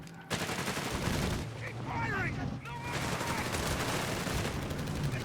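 Dense, continuous small-arms and machine-gun fire from a Company of Heroes 3 match (DAK vs USF) crackles in overlapping bursts for several seconds at a steady, loud level.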